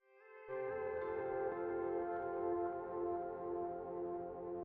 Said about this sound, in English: I have this like pedal steel that I ran through a crazy delay and reverb